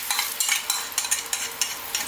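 Curry slurry sizzling in hot oil in a pot for curry chicken, a bright steady hiss with rhythmic stirring strokes every few tenths of a second, close up and with no voices.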